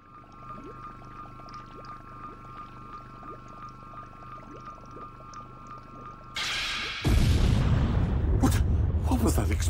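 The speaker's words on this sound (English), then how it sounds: "What was that explosion just now?" An explosion in the video game Dragon Ball Z: Kakarot breaks over a quiet hum of game ambience, then swells into a loud, sustained rumbling roar with crackling bursts near the end.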